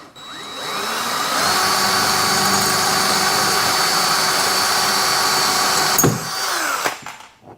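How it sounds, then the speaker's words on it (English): Power drill boring steadily through a bar to open a passage for a USB cable, whining loud and continuous for about six seconds before stopping with a brief clatter and short spin-down. "So I got to get this drilled out now."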